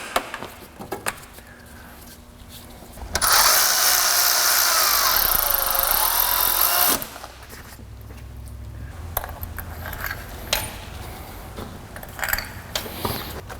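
A pneumatic impact gun bursts into a loud, continuous rattle for about four seconds during a Honda Civic D-series timing belt job, with quieter workshop clatter before and after.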